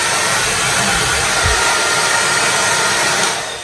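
A 1937 Remington New York hair dryer runs steadily at close range, a loud continuous blowing whoosh that holds even and then tapers slightly at the end.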